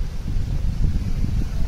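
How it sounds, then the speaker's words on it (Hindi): Strong wind gusting outdoors on a rainy-looking day near a university building, a steady loud low rumble of buffeting air with no talk. "हवा चल रही है तगड़ी"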